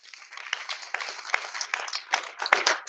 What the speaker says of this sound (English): Let's give them all a hand.